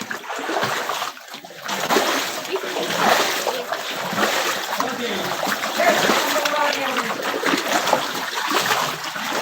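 Water sloshing and splashing in bursts while a flooded room is cleaned, with people talking over it throughout.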